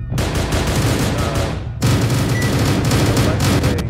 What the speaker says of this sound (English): And more gunshots?